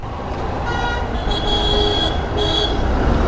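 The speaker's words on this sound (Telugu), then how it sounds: "రేవాలో ఫుల్ ట్రాఫిక్ జామ్." Vehicle horns toot repeatedly amid dense traffic in a full traffic jam in Rewa, with a steady loud road rumble underneath and horns overlapping near and far.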